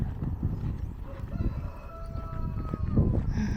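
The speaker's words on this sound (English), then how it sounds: "Some roosters nearby." Roosters crow nearby in a Mexican jungle, their faint drawn-out calls rising over a rumbling vehicle and clattering hoofbeat-like noise, with no talk.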